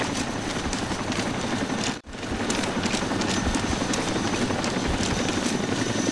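A Chinook helicopter in the Arma 2 military game makes a steady, loud, rhythmic rotor thump with a constant engine roar, broken by one brief dropout, with no talk.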